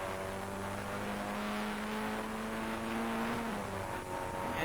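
Production saloon race cars at Brands Hatch in 1988 hold a sustained engine drone that climbs steadily in pitch under acceleration, then briefly dips and resumes, with a second engine tone layered beneath in a continuous, fairly close roar.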